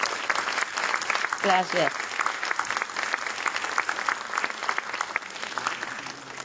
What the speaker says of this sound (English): let's give another resounding applause